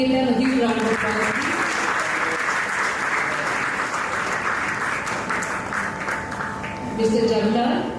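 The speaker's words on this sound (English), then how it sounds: "Let's give them a huge round of applause." Sustained, dense applause from a large crowd at a pearl jubilee alumni meet as honorees' names are read, steady and loud for several seconds with a voice speaking at the start and end.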